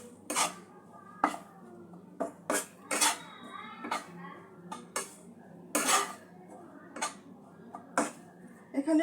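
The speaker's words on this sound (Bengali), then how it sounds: "এই অবস্থায় বেসনটা আমি দিয়ে দেবো। সমস্ত মশলার সঙ্গে ভালো করে কিছুক্ষণ কষিয়ে নিতে হবে।" Chickpea flour (besan) being worked with spices in a pan, heard as a run of sharp, close metal-on-metal scrapes and clinks from a spoon, repeating in an uneven rhythm against a quiet background.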